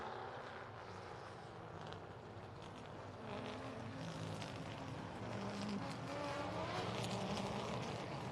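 Tundra-class race cars run a qualifying heat at Wisconsin International Raceway, a steady, distant engine drone rising slightly and holding over the whole stretch without talk.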